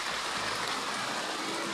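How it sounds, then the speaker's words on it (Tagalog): Steady rain pouring down, the first heavy rain of the season, a dense continuous hiss of drops on surfaces, with no voices. "Unang buhos ng ulan."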